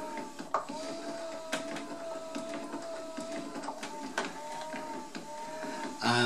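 Jobo CPE 2 film processor motor turning a rotating development tank, giving a steady mechanical whir with a faint sustained hum and occasional clicks, moderately close and alone.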